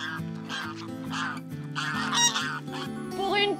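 Geese honk repeatedly in a noisy flock, overlapping calls close by with a steady rhythm of nasal cries.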